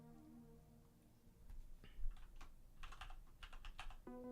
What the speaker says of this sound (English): I apologize if my typing is a little too loud.